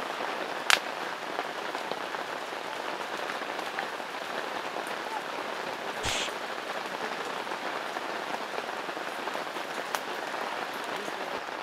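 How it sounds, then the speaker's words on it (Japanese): Heavy typhoon rain pours steadily over a campsite, a dense continuous hiss of drops on surfaces with a couple of brief knocks, loud and unbroken throughout. "なんでこんなに雨が降ってるんでしょうか。"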